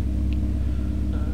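Steady, loud car engine rumble from a Roblox drifting game, holding a constant low drone with only a slight rise, alone without talk.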